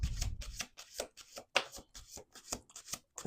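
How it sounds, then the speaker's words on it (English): Rhythmic bursts of tarot cards being shuffled close up, a quick riffling pattern repeating about a dozen times, soft and crisp with no talking. "Let's do 2 more shuffles."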